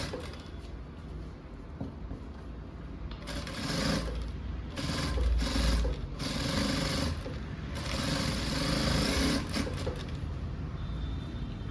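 Domestic sewing machine stitching a blouse in a tailoring session, running in steady rhythmic bursts that speed up and slow down, moderately loud and close, with no talk.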